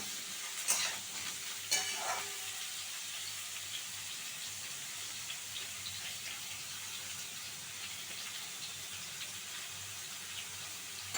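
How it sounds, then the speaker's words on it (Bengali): Pieces of young jackfruit fry in a pan over a gas flame turned up high, giving a soft, even sizzle. Two clear utensil scrapes or clinks come early, then the quieter frying continues alone. "এঁচোড়টা কিন্তু খুব ভালো করে ভেজে নিচ্ছি"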